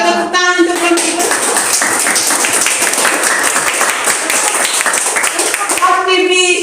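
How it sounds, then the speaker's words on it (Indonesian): A school class clapping for a student group, fast, rhythmic clapping from many pupils up close, bracketed by voices speaking or chanting at the start and end. "Kita tepuk tangan untuk kelompok 2."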